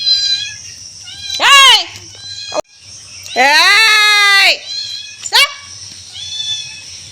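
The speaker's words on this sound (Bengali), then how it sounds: "ছাগল আইছে, চেঁচাচ্ছে।" A goat bleats three times, loud and close, with a long wavering cry in the middle between two shorter calls, over a faint background hum of insects.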